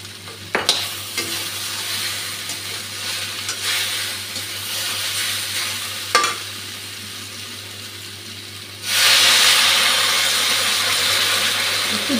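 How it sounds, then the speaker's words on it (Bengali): Spice paste fries with vegetables in a pan for a vegetarian curry, giving a steady sizzle with a few sharp scrapes of stirring, then a sudden louder, brighter sizzling rush near the end. No one speaks. "মশলাটা খুব ভালো করে ভেজে নিয়েছি সবজির সঙ্গে।"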